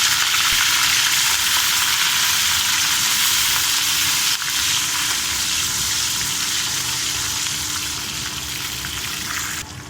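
Green chilies and curry leaves fry in hot oil with a loud, steady sizzle that fades slightly toward the end, with no speech.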